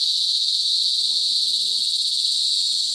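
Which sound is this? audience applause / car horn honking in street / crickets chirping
crickets chirping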